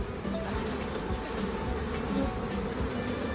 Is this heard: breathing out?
no